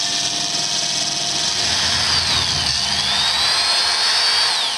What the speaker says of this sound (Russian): При нормально заточенном сверле сверление происходит довольно быстро.